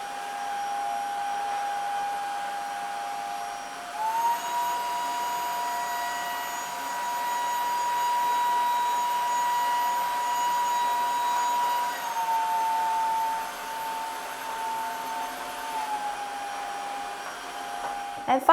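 A Xiaomi Dreame H11 Max wet and dry vacuum hums steadily at close range, its motor whine rising in pitch and loudness partway through, holding for several seconds, then easing back down as it suctions dirty water into its tank.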